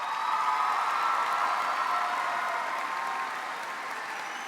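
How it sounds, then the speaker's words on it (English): High school graduation ceremony crowd applauds a retiring staff member, a broad sustained clapping from a large audience that stays steady then eases slightly toward the end. "let's give him a round of applause for 10 years of service"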